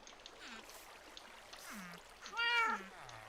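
Cats in Minecraft meow repeatedly in short rising and falling cries, one louder meow standing out near the end, over a faint steady background of flowing water.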